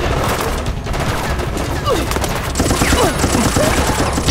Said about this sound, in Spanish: ese sonido